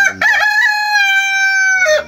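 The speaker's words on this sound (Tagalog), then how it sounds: "At may manok na puti na binigay yan, Brad?" A white rooster crows once, loud and close, a single drawn-out cock-a-doodle-doo lasting about two seconds with no talk over it.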